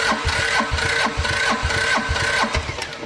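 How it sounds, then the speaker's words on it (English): An engine cranks over steadily with the throttle down after a new fuel pump is fitted, giving a loud, close, rhythmic chugging of repeated compression pulses without catching. "So let's put the throttle down, crank it over, see what we get."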